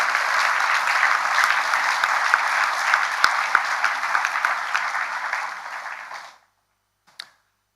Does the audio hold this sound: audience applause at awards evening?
yes